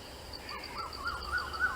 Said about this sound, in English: That's a quail.